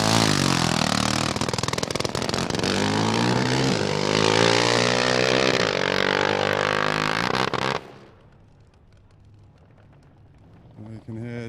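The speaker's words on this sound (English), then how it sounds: "We can hear just a bit of a problem there on the engine notes." A drag racing car engine at a nostalgia drag meet roars loud and rough with an uneven, misfiring edge for several seconds, then cuts away to a faint low rumble before a brief swell near the end.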